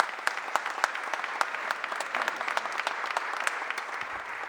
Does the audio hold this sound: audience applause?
yes